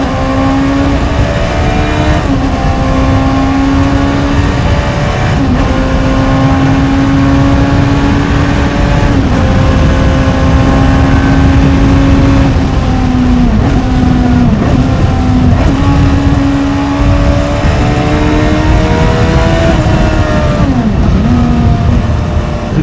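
A Honda CBR600RR motorcycle on a night ride, its engine loud and close throughout, revving up and dropping through repeated gear changes with a steady, high-pitched drone between shifts.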